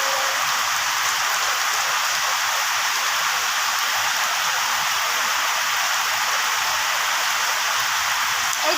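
Steady rain falls in a village, a dense, even hiss of drops on surfaces lasting throughout, with no voices and no breaks.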